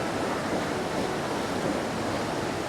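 Water pours out of a tunnel at Valparai, a steady, dense broadband rush like surf or a small waterfall, close and fairly loud, continuous with no voices.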